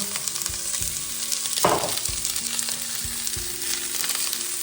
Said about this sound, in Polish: oliwa z oliwek już jest rozgrzana, a więc wrzucamy cebulę. Imbir, por.